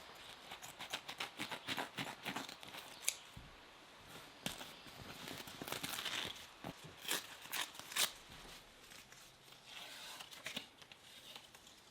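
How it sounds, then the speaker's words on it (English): Something is cut up by hand at an off-grid cabin, giving faint, irregular snips and crunchy clicks in uneven clusters, close but quiet with no talking. "just cut this up and stick it and we'll see if it helps"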